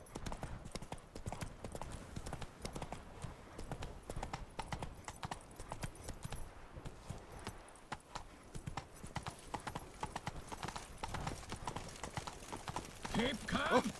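Horse hooves trot in The Witcher 3 video game, a quick, steady clip-clop rhythm at moderate distance, with faint game voices and ambience underneath.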